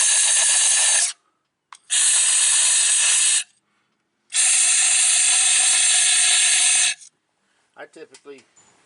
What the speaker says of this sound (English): It's always a good idea to blow these out before you take the coils out,